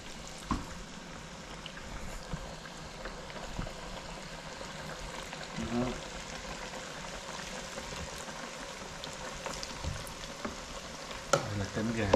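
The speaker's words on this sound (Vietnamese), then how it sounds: "Mới vừa rồi chúng ta chiên cánh, giờ bắt đầu chiên cái đùi gà." Chicken thighs deep frying in hot oil, a steady crackling sizzle that runs throughout with occasional louder pops and bubbling bursts, heard up close with no talking.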